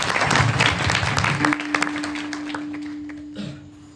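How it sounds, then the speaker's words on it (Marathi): Audience applause at a kirtan devotional gathering, a burst of clapping from the crowd that fades over several seconds, with a sustained tone running under the tail end. "पूर्ण सोगे कुटुंबासाठी खरंच एकदा टाळी वाजवा"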